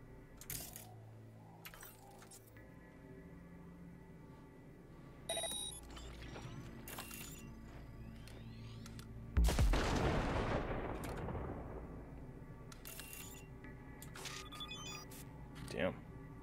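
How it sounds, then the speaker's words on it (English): A grenade explodes in the video game Cyberpunk 2077: one loud, heavy blast about midway that rolls off into a fading rumble, set among quieter in-game clicks, chimes and background effects. "Detonate the grenade."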